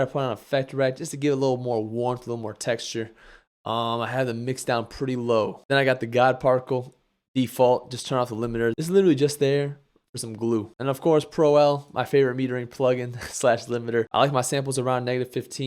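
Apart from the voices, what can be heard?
No distinct noise like a dog, phone or traffic.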